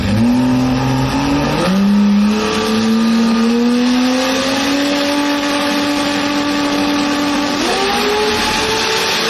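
A drag racing car makes its run down the strip at a Brisbane jamboree finals, the engine climbing in a long, loud rising drone with a sudden pitch jump as it shifts partway through, heard from close by.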